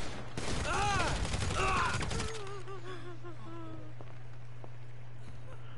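A rapid burst of gunfire in GTA V Online crackles for about two seconds, followed by quieter warbling tones over a low steady hum.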